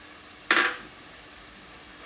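Grated tomatoes hit a pan of yogurt and spice masala with one sharp, brief sizzle that fades quickly, close up, followed by quiet.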